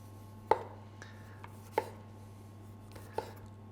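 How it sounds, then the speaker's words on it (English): A knife trims the outside of a beetroot, landing three sharp, evenly spaced taps on a board over a steady low hum in a quiet kitchen. "I'm just going to remove the outside of the beetroot with my knife."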